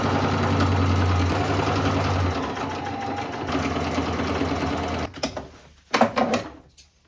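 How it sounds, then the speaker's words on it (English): A sewing machine runs continuously for about five seconds, taking in a thrifted dress along a marked line, then gives way to a few short clicks and fabric handling noises. "And now we can just sew along the line that we made."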